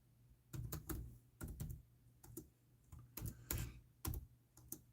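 A computer keyboard clicks in short bursts of sharp keystrokes, quiet and close, with brief pauses between the clusters of typing.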